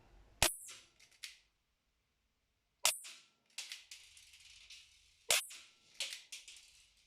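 Three sharp, loud single shots from a single-action gun at an outdoor shooting range, spaced a couple of seconds apart, each followed by brief metallic clanks and rattles of handling, with no talking.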